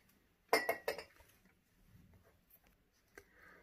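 Faint clinks of a utensil against a bowl while flour and cornstarch are stirred together, a quick cluster of bright taps early on followed by softer scraping and a lone tap later, in a quiet kitchen.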